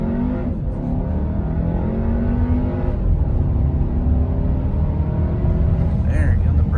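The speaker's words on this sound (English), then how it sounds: "But let's bring up the RPMs and launch it." Volkswagen Jetta GLI Autobahn and Arteon R-Line launching side by side from a standstill, engines revving hard in a steady, loud acceleration roar with continuous engine drone and rising harmonics throughout.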